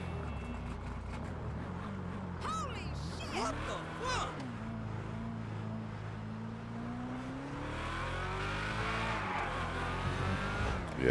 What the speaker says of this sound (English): I like how this car sound too.